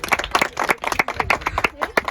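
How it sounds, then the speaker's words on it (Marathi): A group of trekkers near Kalsubai, Maharashtra's highest peak, claps hands together in quick, close, lively bursts, with voices mixed in. "त्यांच्या ह्या जोशासाठी सलाम एकदा टाळ्या वाजवून"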